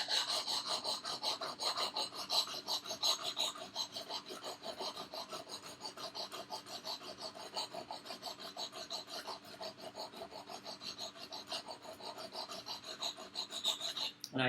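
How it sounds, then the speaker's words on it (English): A blade bevel being ground by hand, a steady continuous rasping scrape that runs unbroken and fairly quiet for the whole stretch with a fine, even rhythm of strokes. "I'm grinding it and it's slowly fixing the bevel"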